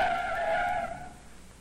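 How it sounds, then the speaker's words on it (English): A police car brakes hard and its tires squeal as it skids to a stop, a loud, wavering screech that fades out over about a second. "The police car had good brakes, and it took 30 feet to stop."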